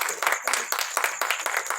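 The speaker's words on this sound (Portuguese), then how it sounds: "Aplauda o Senhor com alegria" Congregation clapping together at an evening church service, a steady rhythmic beat of about five claps per second, fairly loud and close, with no talk over it.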